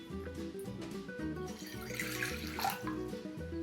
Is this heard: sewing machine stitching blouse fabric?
no